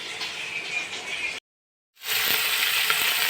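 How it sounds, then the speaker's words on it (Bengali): Small fish frying in oil in a pan, a close, steady sizzle that cuts out for about half a second and then returns just as strong. "ছোটো মাছ ভাজা"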